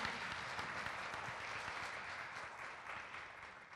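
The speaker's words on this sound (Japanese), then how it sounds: "Please give them a big applause." Applause at a boxing press conference announcing Naoya Inoue versus Luis Nery at Tokyo Dome, a sustained, even wash of many hands clapping across the room, heard on its own without talk.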